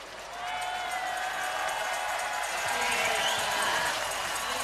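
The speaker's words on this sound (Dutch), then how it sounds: "Dus een geweldig applaus." A carnival-evening crowd applauds at a closing show, sustained clapping at moderate distance that swells slightly, with some cheering and faint voices mixed in.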